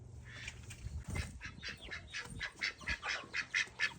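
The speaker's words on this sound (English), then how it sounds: "Go home, duckies." Ducks on a farm quack in a run of short, nasal calls that grow louder and more rapid toward the end, fairly close, with faint rustling and a low rumble at the start and no speech.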